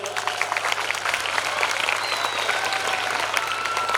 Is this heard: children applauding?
yes